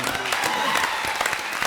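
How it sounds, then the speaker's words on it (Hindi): Audience applause on a comedy show, a brief burst of clapping with a voice talking over it. "एक बार फिर जोरदार तालियां।"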